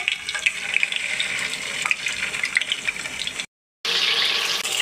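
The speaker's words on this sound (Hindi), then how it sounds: "ऑयल हल्का सा गर्म हो तो इसमें पैटी डाल देंगे।" Chicken patties fry in moderately hot oil over a medium flame, a steady close sizzle and bubbling with a brief silent cut before the sizzling resumes.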